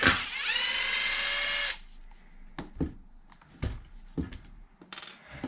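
A power drill whines for almost two seconds removing screws from an Arrma Felony RC car, then several small sharp clicks and taps of screws and parts being handled, close by with no talk.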